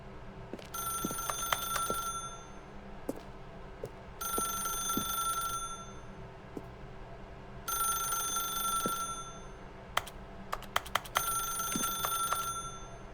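A telephone rings in The Stanley Parable video game: about four bright, buzzing bell bursts with short pauses between them, plus a few sharp clicks scattered through the quiet gaps.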